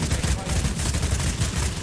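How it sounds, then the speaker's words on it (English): Dense, continuous burst of rapid gunfire in the video game Bloodhunt, with a heavy low rumble, loud and close, running the whole time without pause. "Gunfire is pretty good."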